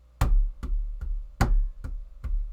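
A beat in 3/4 time thumps along, a heavy accented hit followed by two lighter knocks, repeating twice in an even, moderately fast pattern with no voice over it.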